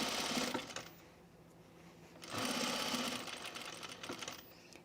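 A sewing machine stitches blazer fabric at a small stitch length in two bursts of fast, buzzing stitching, separated by a quieter pause, close and clear with no talk.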